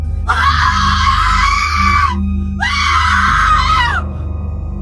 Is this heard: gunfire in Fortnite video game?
no